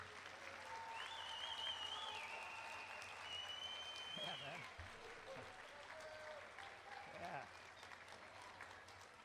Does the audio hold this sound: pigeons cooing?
no